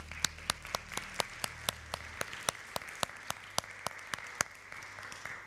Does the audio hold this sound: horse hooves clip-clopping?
no